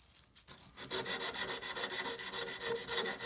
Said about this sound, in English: This is 150 grit sandpaper